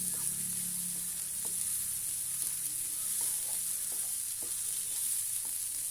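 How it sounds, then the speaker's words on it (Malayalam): Something being stirred and sautéed in a pan, a steady sizzle running throughout with scattered scraping taps of a utensil, close and moderately loud, with no voices. "ഇനി ഇത് നന്നായിട്ടൊന്ന് വരണം. അതുവരെ നമുക്കിത് ഇളക്കിക്കൊണ്ടേയിരിക്കണം."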